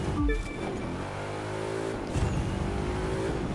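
A 2011 Mustang GT slides through a sharp turn in The Crew 2 racing game, its engine note rising and falling in a steady drone with a brief tire squeal near the start, loud and continuous.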